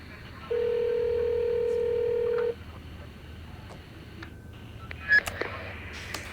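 A single long telephone tone sounds for about two seconds, followed by faint beeps and quiet background noise.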